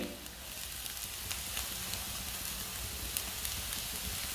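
Onion and grated carrot frying in a pan for samosa filling, a steady close sizzle with faint crackles and stirring throughout, no voices.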